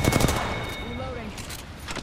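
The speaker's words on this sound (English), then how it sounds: "They're shooting at me." Rapid bursts of gunfire in the Apex Legends battle royale game, a dense volley of shots at the start and again at the end, with a voice speaking over the middle.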